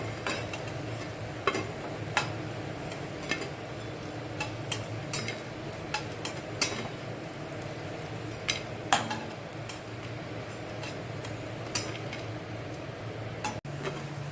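Fried potato pakoras are lifted out of hot oil and set into a dish, giving a steady sizzle broken by frequent light clinks and taps of a utensil against the pan, close and fairly quiet, with no voices.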